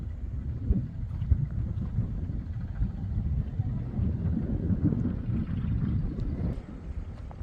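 Strong wind buffets the microphone in a steady low rumble on a farm field during groundnut sowing, gusting throughout with no clear voices.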